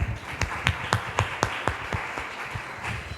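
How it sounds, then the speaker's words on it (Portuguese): A church congregation claps after a cleanup session, with a sparse, fairly quiet patter of hand claps in a loose, uneven rhythm and no cheering or talk. "Vamos aplaudir Jesus, irmãos?"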